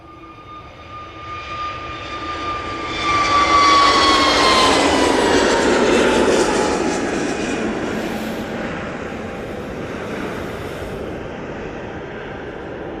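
A passenger jet takes off from Manchester Airport bound for Ibiza, its engine roar swelling loudly after a few seconds, then holding a broad sustained rumble that slowly eases off, with no voices.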